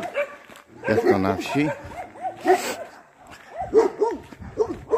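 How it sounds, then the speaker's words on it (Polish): Guard dogs barking in a rural Polish village, several barks and yips scattered through the stretch beneath someone talking nearby. "To pieski stróżujące."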